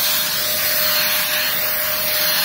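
A compact, lightweight Vonhaus vacuum cleaner runs at full suction, giving a loud, steady, close-up whine and rushing airflow with a constant pitch and no pauses or talking.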